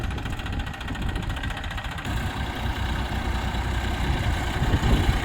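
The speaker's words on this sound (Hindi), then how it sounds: "और ट्रैक्टर है भाइयों मैसी 241 DI।" A Massey 241 DI tractor idles outdoors on a farm, its diesel engine chugging with a steady, loud, close rumble that grows slightly stronger toward the end.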